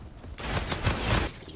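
Gunfire from a gun in the shooter Call of Duty: Infinite Warfare during a multiplayer match, a burst of several close shots lasting about a second amid game noise, with faint talk underneath.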